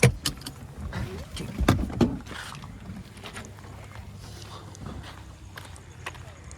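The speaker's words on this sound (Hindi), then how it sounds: "इंजन ऑफ करो, हाँ चाबी निकाल लो" A car key being pulled from the ignition just after the engine is switched off: a few sharp metallic clicks and jangles, then a quiet cabin hum.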